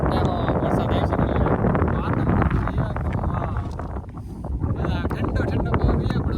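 Cool wind blowing through a village, roaring steadily and buffeting the microphone with gusty rumble for the whole stretch, dipping briefly before swelling again.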